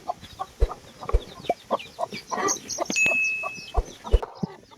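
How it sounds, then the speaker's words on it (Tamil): Repeated clucking from chickens, a hen and chicks, with short sharp calls and soft peeps in an uneven rhythm, close by with faint birdsong behind. "இந்த கோழி குட்டிங்கெல்லாம் பார்த்தீங்களா"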